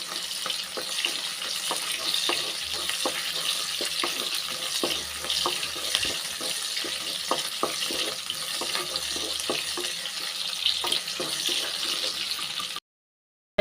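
Small onions sizzle and crackle steadily in a kadai, a dense, continuous frying hiss close by with scattered sharp pops and occasional stirring clicks, no talking.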